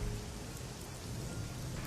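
Rain at the walled city in the game Shadowrun Hong Kong, a dense steady hiss of falling rain with low rumble beneath, continuous and fairly quiet, no talking.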